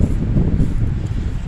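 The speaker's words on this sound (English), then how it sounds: "It is extremely windy here today." Strong wind gusts buffet the microphone at an outdoor cemetery with Civil War and Revolutionary War veterans' graves near a roadside stop, a steady loud low roar with rustling as severe storms approach.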